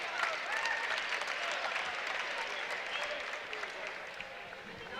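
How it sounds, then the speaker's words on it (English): Crowd applause in a basketball gym during a college game, steady and fairly loud for several seconds, then tapering slightly while an announcer's voice carries over it. "Nice round of applause for them."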